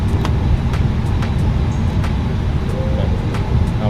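A FlyByWire A320neo being pushed back in a flight simulator game, a steady broadband rumble of ground vehicle and engine noise with faint periodic clicks running throughout.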